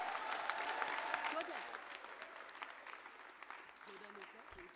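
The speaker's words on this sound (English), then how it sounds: "Can we give them a round of applause?" Audience applause at the closing ceremony of the G20 Social Summit, a steady wash of clapping from a crowd, fairly distant and quiet, slowly tapering toward the end, with faint voices beneath.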